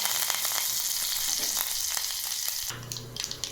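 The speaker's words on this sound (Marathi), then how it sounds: "तेल गरम झालं त्यामध्ये आपण आता जिरे मोहरी टाकून घेऊ आणि कढीपत्ता" Cumin, mustard seeds and curry leaves hit hot oil for a tempering poured over green pea dhokla, a loud, close, continuous sizzle that shifts into sharper scattered crackles and pops near the end. No one speaks.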